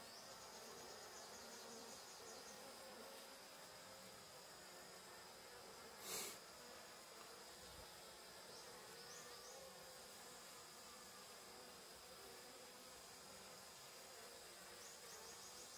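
Honey bees buzzing around a colony nested in a tree stump outdoors, a faint, continuous insect drone with a brief louder pass midway, distant and steady with no speech.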